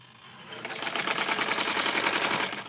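Sewing machine stitching a red coat for Simplicity pattern 4422 hums steadily with a fast, even mechanical chatter, starting after a brief pause and running close and continuous to the end.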